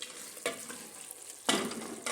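Meat browning in a hot pan for a Moroccan dish with dried meat (qadid), sizzling steadily up close with two stirring surges as the pieces are turned.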